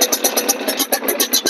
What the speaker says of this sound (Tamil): சவுண்டை பாருங்க, வண்டியோட சவுண்டு அவ்வளவு சூப்பரா இருக்கு.